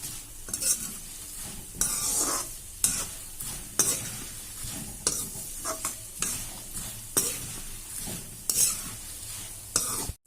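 A spoon stirs and scrapes through a sizzling spice tempering with turmeric powder in a pan, in repeated bursts of rustling strokes with short pauses between, close and moderately loud.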